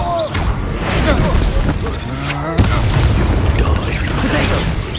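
Spell blasts and explosive booms from the Confringo blasting spell in Hogwarts Legacy, layered with crackling bursts and combat effects in a dense, loud battle mix, with a voice calling out briefly.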